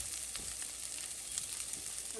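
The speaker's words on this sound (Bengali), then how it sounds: "আমি একটা ভেজে নেব" Chili singara frying in hot oil, a soft continuous sizzle and bubbling that stays fairly quiet and even throughout, with no voices.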